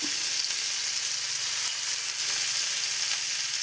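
Hot oil sizzles continuously around small mackerel fish in the pan, a close, even crackling hiss with a faint tap or two, and nobody speaking.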